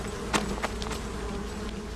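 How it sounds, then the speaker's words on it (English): Bees buzzing in the Metal Gear Solid 3 jungle make a soft, steady insect drone, with a few short louder buzzes passing close by over a low background hum. "Stop, drop, and roll does not apply to bees, Snake"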